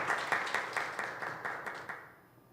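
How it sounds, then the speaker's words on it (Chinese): An audience at a youth worship service claps to welcome a speaker, a brief round of rhythmic, fairly close applause that tapers off and fades out toward the end. "好，我们一起来欢迎她，拍手。"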